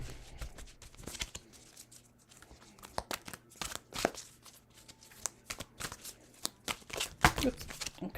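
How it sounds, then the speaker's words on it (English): Tarot cards shuffled by hand during a live reading, a run of quick riffling bursts and crisp snaps at varying loudness, with a voice speaking in between. "I'm shuffling off camera"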